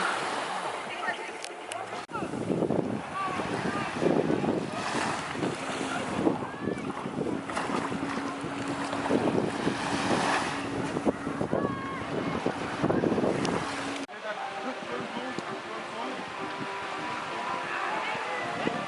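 Kayaks paddle out on the sea at a Turkish beach resort in Kusadasi, with steady wind buffeting and waves washing nearby, continuous and fairly loud throughout.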